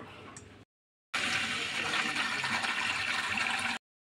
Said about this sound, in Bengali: আমি চিকেনটাকে ভালো করে ধুয়ে নিই